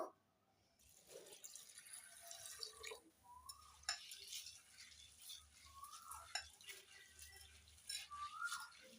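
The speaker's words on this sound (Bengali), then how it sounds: "সাবুদানাগুলো জল দিয়ে ধুয়ে নেব" Sago pearls are rinsed in water in a bowl, with soft sloshing, swirling and faint clinks of the vessel, all quiet and close.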